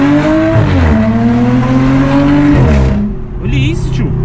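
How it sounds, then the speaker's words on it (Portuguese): An Audi A7 with a straight-pipe exhaust revs loudly up close, its engine note climbing and falling in throaty surges before cutting off, followed by a brief squeal. "O ronco do carro tá animal, tio."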